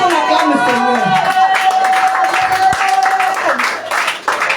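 A church congregation clapping and cheering together during a worship service, steady dense applause mixed with crowd voices and a sustained singing tone, loud and close.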